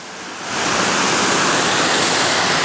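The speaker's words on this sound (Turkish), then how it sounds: "Bakın suyun sesini duyuyorsunuz. Çok güzel bir su sesi var." A waterfall on a hiking trail pours in a loud, dense, continuous roar that swells up within the first half-second and then holds steady, close by and alone.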